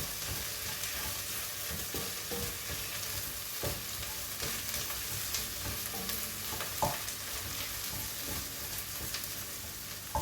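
Tomato paste fries in a hot pan with a steady, close sizzle, while a spoon scrapes and stirs it in irregular strokes, with occasional sharper taps against the pan.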